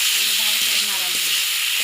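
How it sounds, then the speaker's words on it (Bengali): Spice mixture with green chilli, salt and chopped tomato frying in a pan while being stirred, a steady loud sizzling hiss with faint scraping under it, no talk. "ভালো করে নাড়া দেবো।"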